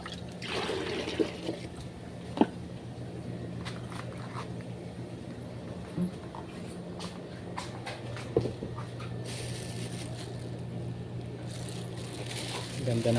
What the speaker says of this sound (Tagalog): lagyan natin ito ng tubig.